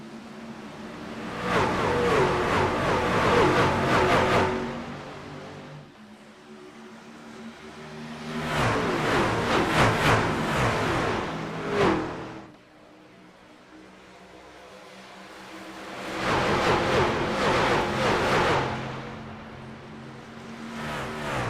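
Race cars at Talladega roar past in green-flag racing, arriving as three separate loud passes of rising then fading engine noise with quieter gaps between them and no voices.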